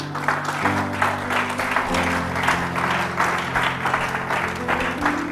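A church congregation claps together during a spiritual-combat and deliverance service, with sustained applause that swells in regular bursts over held musical tones.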